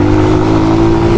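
A motorcycle revving hard in first gear on a street in Jamaica, a loud, close, sustained engine roar holding steady before rising in pitch at the end.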